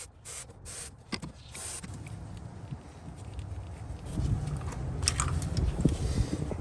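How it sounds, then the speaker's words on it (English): Short hissing bursts of aerosol electronic cleaner sprayed onto the coil packs of a Toyota/Lexus 5.7L 3UR-FE engine, followed by clicking and handling noises, fairly close with no voices. "I'm just going to spray them each with a little bit of electronic cleaner"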